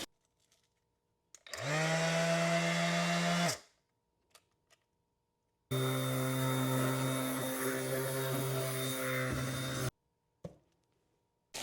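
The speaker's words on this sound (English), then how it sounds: "Palm sander." DeWALT brushless palm sander switched on twice: a short whirring burst of about two seconds, a pause, then a longer steady hum of about four seconds, close and clear with silence between.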